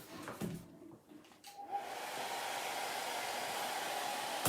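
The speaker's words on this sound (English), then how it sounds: "Let me hit that with a dryer real fast." A hair dryer blows on a painted, distressed wooden Valentine sign, switching on after a few soft handling sounds and then running as a steady close whooshing hiss to the end.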